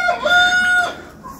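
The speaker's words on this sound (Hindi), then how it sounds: "ये हमारे जो टर्की बर्ड है अंदर नहीं रुकती एक मिनट के लिए भी" A pet turkey calls once up close, a loud, tonal call lasting about a second before fading into quiet.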